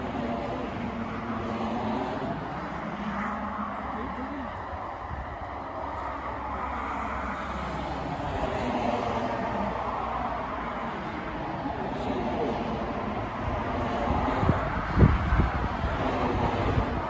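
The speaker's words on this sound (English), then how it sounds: "Yeah, it's slow. It's old steam train," Old steam locomotive Flying Scotsman passing a farm slowly, a steady low rumble of rail transport mixed with wind noise on the microphone, growing a little louder toward the end as it draws near.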